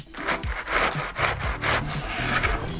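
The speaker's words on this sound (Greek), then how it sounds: "τρίβω 300 γραμμάρια λάχανο στο ρεντέ" Cabbage grated on a hand grater, close rhythmic rasping strokes repeating about every half second, loud and steady with no voices.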